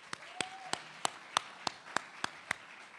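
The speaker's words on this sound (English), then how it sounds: "Another round of applause for Tim." At a Politicians vs. Press spelling bee, about nine sharp, evenly spaced claps ring out one after another in a slow, steady rhythm over a quiet room.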